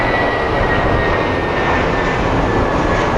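A Southwest Airlines jet in Triple Crown livery pushing out at Phoenix Sky Harbor, giving a loud, steady, continuous engine roar close by with no break.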